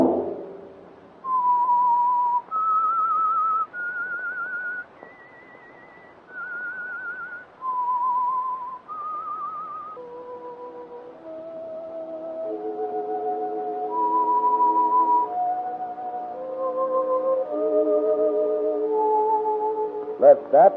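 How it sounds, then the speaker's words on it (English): A whistled theme melody for The Whistler radio mystery show: a solo human whistle carrying a slow, eerie tune of sustained notes, followed by a lower accompanying orchestral line joining beneath it, with no talk over it. "Let that whistle be your signal for the Whistler."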